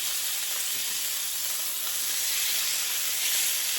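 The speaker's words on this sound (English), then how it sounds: "We're water frying this, and you'll see what I mean." Meat water-frying in a pan gives a loud, continuous, close sizzle with a steady hiss and faint bubbling that never lets up.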